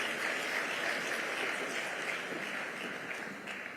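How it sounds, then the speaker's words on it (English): Steady crowd applause at the Kalasha awards, KICC Nairobi, a dense wash of clapping from many hands, holding at an even level throughout before easing slightly at the end. "Please, a round of applause one more time for His Excellency, ladies and gentlemen."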